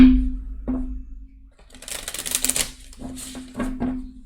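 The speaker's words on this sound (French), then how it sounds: "je vais tirer un petit message également... de l'oracle des anges de Dorine Virtue" Angel oracle cards are riffled and shuffled in quick papery bursts against a steady low hum, close and fairly loud, with short pauses between shuffles.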